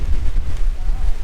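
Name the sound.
strong wind at lakeside campsite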